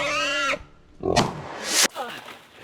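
A large wild hog grunts and squeals close by during a hunt, a few harsh bursts with someone speaking excitedly between them.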